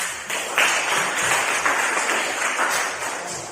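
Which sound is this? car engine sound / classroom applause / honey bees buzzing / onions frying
classroom applause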